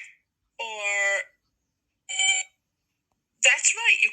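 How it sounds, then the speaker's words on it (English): A few short electronic beeps sound in separate bursts, a longer one, then a brief one, then a warbling pattern, with quiet gaps between. "That's right, you could beep."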